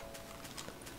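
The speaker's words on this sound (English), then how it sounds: "Oh my god, mini horse!" Mini horse hoofbeats in Minecraft, a quick steady clip-clop of several light hoof strikes over a continuous background hiss.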